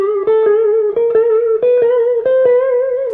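Distorted electric guitar from a solo lesson playing a short repeated lick that steps up by half steps with picked notes, loud and close, with no voices.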